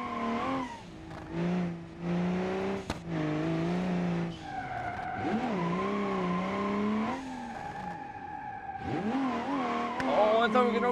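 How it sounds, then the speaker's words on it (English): Drift car in the BeamNG driving game jumping and sliding with traction control off, tires squealing in long wavering screeches over a steady engine drone, with short breaks between slides. "might as well bring it over here and do some jump drifts."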